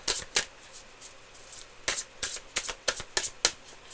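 Playing cards riffled and shuffled in quick bursts, crisp and close, with short pauses between shuffles and no talking.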